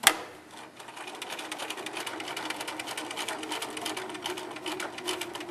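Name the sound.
sewing machine sewing ski hat seam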